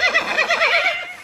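A cartoon horse gives a single short, bright whinny with a wavering, quivering pitch, close and loud, heard alone without talk.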